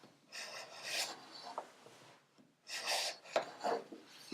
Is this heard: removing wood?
yes